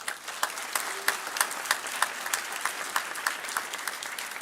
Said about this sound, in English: Please join me in a round of applause for these members of our community.